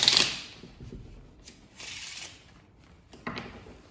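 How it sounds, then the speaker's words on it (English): A deck of playing cards being shuffled during a school talent show magic trick, heard as several short riffling bursts separated by brief pauses, close and fairly quiet. "First, I'm going to shuffle the deck."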